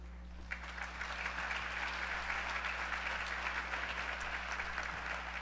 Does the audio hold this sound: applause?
yes